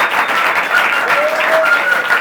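Steady applause from an audience fills the whole stretch, dense and continuous with no break, at a talk-show style event.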